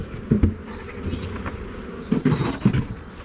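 A swarm of honey bees hums and buzzes continuously close by, the drone rising and falling with individual bees passing near.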